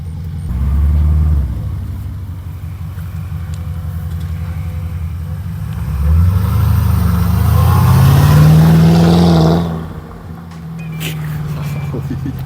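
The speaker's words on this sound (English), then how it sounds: "You hear the V8 more than anything, but if you listen, you can definitely hear the turbos." Porsche Cayenne Turbo twin-turbo V8 with the muffler deleted, driving and accelerating: a loud, deep engine note that swells and rises in pitch through a long pull, then drops back, with people talking over it.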